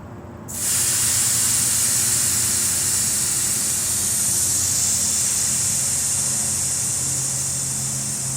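Air rushes out of a tyre valve in a sudden loud hiss that starts abruptly and then holds steady and close, fading only slightly over several seconds.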